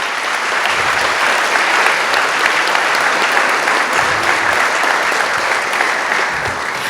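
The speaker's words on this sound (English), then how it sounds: "please, a round of applause for the West University of Timișoara" Sustained loud applause from a large audience at a university talk event, steady dense clapping throughout with no speech.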